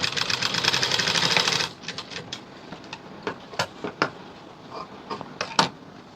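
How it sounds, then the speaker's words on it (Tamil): Sewing machine stitching a high-neck blouse collar, a dense rapid mechanical chatter for about a second and a half before it stops, followed by scattered faint clicks and handling taps. "இந்த மாதிரி டபுள் டைம் நீங்கள் தையல் போட்டுக்குங்க."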